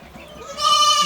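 A goat gives a short, nasal bleat that swells after a quiet moment, close by, indoors during rainy weather.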